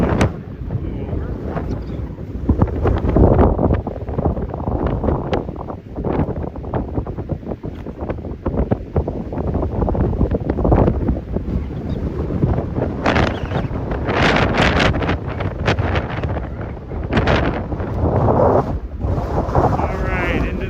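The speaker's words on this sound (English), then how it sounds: "Alright, into the wind we go." Strong gusty wind blowing across an open lake on a hike, loud buffeting rumble hitting the microphone throughout with surging gusts, under occasional talking.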